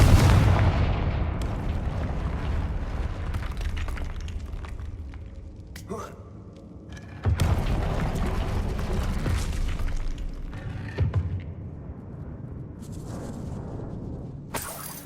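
A Confringo fire spell bursting in Hogwarts Legacy gameplay, heavy booming blasts and rumbling explosions filling the scene, with a few sudden drops to quiet between loud crashes.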